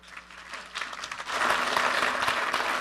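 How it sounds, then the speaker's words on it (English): Applause from a conference audience welcoming a speaker to the stage, starting thin and swelling into steady, dense clapping that fills the room. "Let's give her a big round of applause"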